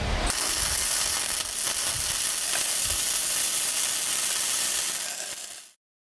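Flux-cored arc welding on a T-joint of thicker steel, with the gun weaved side to side: a steady, loud crackling sizzle that runs for about five and a half seconds and then cuts off, with no talk.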